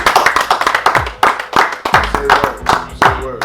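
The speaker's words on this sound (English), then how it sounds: "You'll be a fool if you don't clap for this man." Close, sharp hand claps in a loose rhythm at a small comedy or open-mic style gathering, several distinct bursts separated by short gaps, with some low voices and background sound between them.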